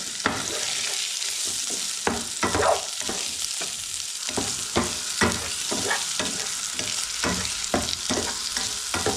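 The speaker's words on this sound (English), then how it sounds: "I'm going to quickly put in seaweed now, just give that a quick stir in there" Seaweed being stirred into toasted tofu in a hot pan, with a steady frying sizzle throughout and repeated scraping stir strokes close by, no talking.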